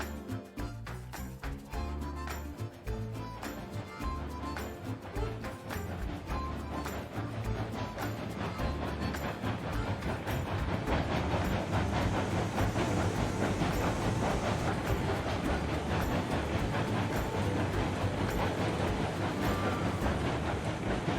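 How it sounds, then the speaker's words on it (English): A train in the railway game Railroads Online rolls past, a dense rumbling mechanical roar with rhythmic clatter that swells and stays loud and close throughout, no talk over it. "Just gotta wait for the train to come back, basically."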